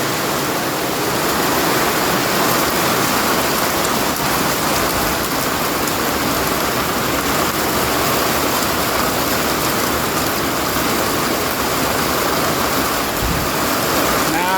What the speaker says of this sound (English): It's coming down. There actually may be some hail in that.